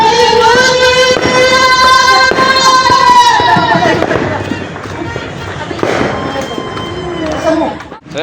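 New Year fireworks and firecrackers bursting for several seconds, with whistling, tonal streaks and crackling blasts, loud at first and then thinning into scattered pops with a crowd's murmur behind.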